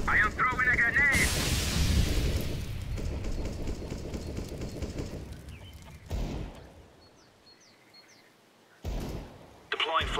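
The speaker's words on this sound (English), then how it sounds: "I am throwing a grenade." A grenade detonates in Counter-Strike: Global Offensive with a heavy, booming blast that rolls off and fades, followed by scattered sharp in-game gunshots and clatter, with a player's voice talking over it.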